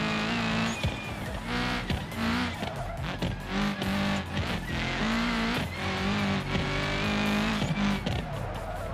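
In the BeamNG Drive driving game, a car engine revs hard and rises and falls in pitch while tires squeal and skid. The sound is loud and continuous, with no talk over it.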